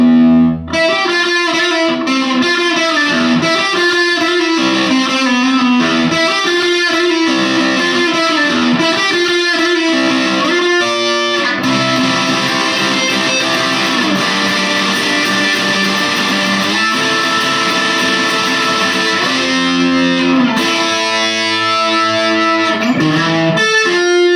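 A heavily distorted electric guitar played through an MXR Prime Distortion pedal, in drop D, plays chugging riffs and sustained chords, loud and saturated throughout, with no talking.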